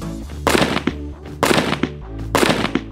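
A colour mappillai firecracker from Sivakasi bursts in three loud, close cracking pops about a second apart, each with a brief crackling tail.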